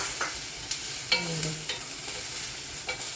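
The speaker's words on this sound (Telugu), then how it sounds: "అది లైట్గా ఫ్రై అయిన తర్వాత నేను దీనికి క్యారెట్ యాడ్ చేస్తున్నాను" Carrot is added to vegetables and ginger frying lightly in a pan, giving a soft, steady sizzle broken by a few sharp clicks and scrapes of stirring, with no talking.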